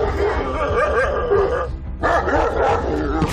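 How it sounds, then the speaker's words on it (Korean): Large dogs bark, snarl and whine in a loud, continuous tangle as they lunge at each other, with a brief lull before the aggressive noise resumes. "하지만 곧 폭발하듯 화를 분출하는 제우스"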